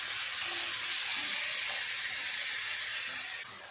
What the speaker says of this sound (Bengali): সব কিছু আবারও একটু ভালো করে নেড়ে চেড়ে ভেজে নেব।